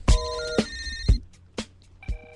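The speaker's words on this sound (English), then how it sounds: "Telephone. Telephone. Stop calling me." Telephone bell ringing in repeated bursts, five sharp electronic rings spaced about half a second apart, loud and close with no talking.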